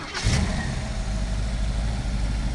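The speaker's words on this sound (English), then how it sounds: "I'm going to do a little engine run and a walk around so you can hear the car" A small block Chevy V8 engine cranks briefly and fires up, then settles into a steady, rumbling idle close by, with a deep throbbing low end.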